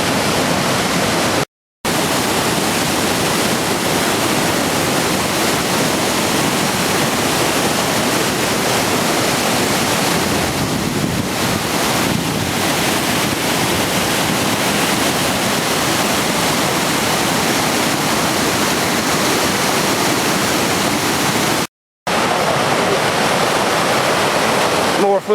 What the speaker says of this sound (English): Well, we made it to the Jack River Falls.